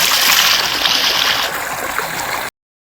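Fresh well water pours out in a steady, loud rush and gurgle on a farm, flowing continuously before cutting off abruptly.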